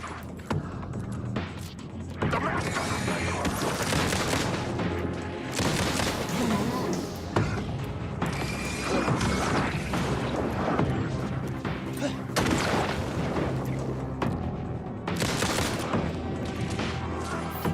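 Gunfire from a video game shooter sounds as dense volleys of loud bursts and booms, some firing in rapid runs, that go on almost without a break, with a voice talking underneath.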